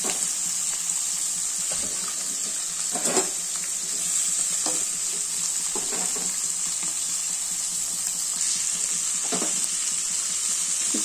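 Salted dried fish, karuvadu, frying in a pan, a steady hissing sizzle throughout with occasional soft scrapes and spatters, close and even, no speech.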